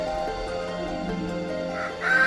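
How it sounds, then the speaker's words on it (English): A black-and-white crested Poland chicken clucks and murmurs close by in a steady low stream, with a brief louder squawk near the end. "This is a black-white crested."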